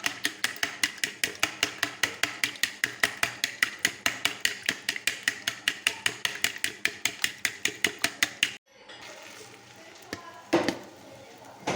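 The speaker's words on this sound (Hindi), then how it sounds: "ये अंडे मैं अच्छी तरह से फेंट लूँगी" Eggs are beaten for frying, a fast, even run of sharp clinks as a utensil strikes the bowl repeatedly, then a sudden stop followed by quieter handling noises and a brief clatter.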